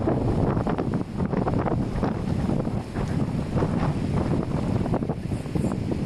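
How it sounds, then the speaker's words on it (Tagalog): Strong wind buffets the microphone without pause, a loud rumbling roar that fills the whole stretch. "Isang hangin."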